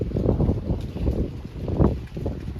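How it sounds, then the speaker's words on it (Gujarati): Strong gusting wind buffets the microphone on an exposed hilltop ridge near a hill shrine, rumbling in uneven surges that swell and ease with no voices. "આ પવન છે ફૂલ અહીંયા ઉપર"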